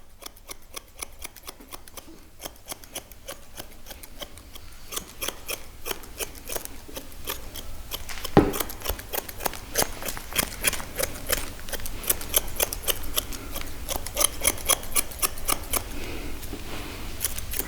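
Grooming scissors trim a West Highland White Terrier's coat around the rear, rapid rhythmic snipping in close-up bursts that grow denser and louder, with no talk.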